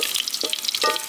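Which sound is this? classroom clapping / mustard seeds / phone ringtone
mustard seeds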